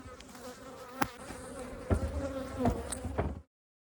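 Honey bees buzz in a dense, steady drone around a mean, strong hive that recently swarmed, with a few sharper thumps and handling knocks breaking through before the sound cuts off.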